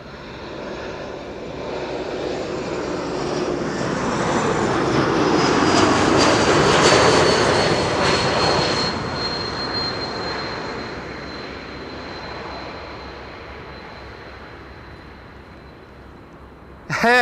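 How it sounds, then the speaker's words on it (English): KLM Embraer E195-E2 jet arriving at Schiphol from Bilbao, its engine roar swelling to a loud peak and then fading, with a high whine lingering as it passes. "KLM flight 1524, E2 Embraer 195 arriving from Bilbao."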